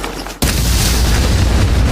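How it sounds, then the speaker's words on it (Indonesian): A sudden deep magical explosion booms in an animated story after a brief quiet, followed by a sustained loud roaring rumble that doesn't fade. "Jelas ledakan dahsyat barusan juga disadari oleh Oscar dan kedua anak buahnya."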